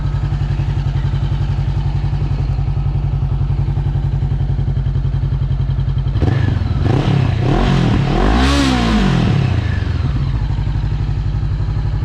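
A used 2018 Honda CBR500R motorcycle with a Daivolo exhaust idles with a steady rapid thump, then blips and revs up sharply a few times, rising and falling loudly before settling.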